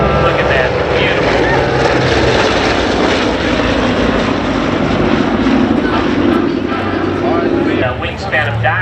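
Loud, sustained roar of a vintage B-29 Superfortress bomber's piston engines and propellers flying past at an air show, heard close and steady throughout, with a commentator's voice underneath.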